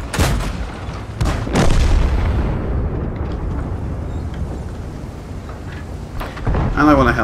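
Tank cannon shots from a tank video game: two heavy booms come close together at the start, followed by a rumbling, echoing tail and another blast near the end, while a voice talks over it.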